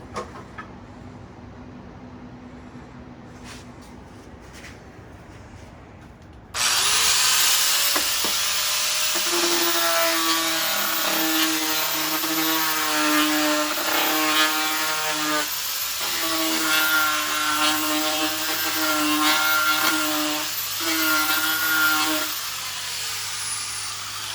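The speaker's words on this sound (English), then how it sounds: "Just about anything will cut wood with the grinder." An angle grinder fitted with a cut-off wheel slices through wood for a bat box, starting abruptly after a quiet stretch and running as a loud, steady whine with pulsing tones from the cut, continuing close up until the end.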